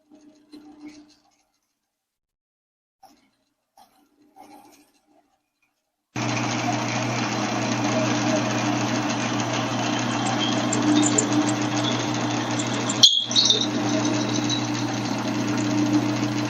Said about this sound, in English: we're going to drill an 8mm hole all the way through the blank.